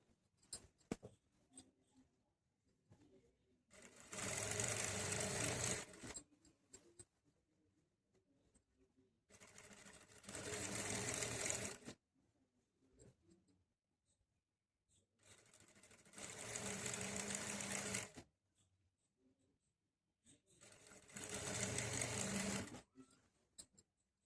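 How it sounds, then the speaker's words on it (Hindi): A sewing machine runs in four bursts of rapid stitching along the edge of a salwar belt, each run lasting a couple of seconds with quiet pauses between. "अब यहाँ हम किनारे, बिल्कुल किनारे किनारे एक सिलाई लगाएंगे।"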